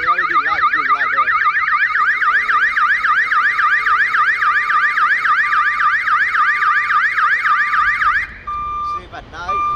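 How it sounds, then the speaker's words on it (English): A solar-powered security camera light mast alarm sounding: a loud, close electronic siren wailing in rapid repeating sweeps for about eight seconds, then cutting out into brief quieter tones. "there is motion, all the siren, the horn, and the LED light will light up"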